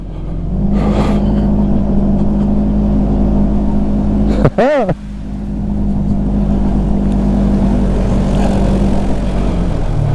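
A 2021 Polaris Ranger 1000 side-by-side grinds up a steep, slick dirt hill, its engine a loud, steady droning rumble under load, with a brief revving swell midway before settling back to a constant hum.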